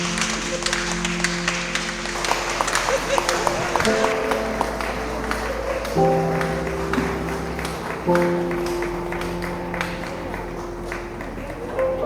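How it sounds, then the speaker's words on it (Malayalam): An audience at an anniversary program applauds, with steady clapping blended with sustained musical tones that shift pitch every few seconds. The sound holds at an even level throughout, and nobody speaks. "എല്ലാവരും ഒരു നിറഞ്ഞ കയ്യടി കൊടുക്കുക"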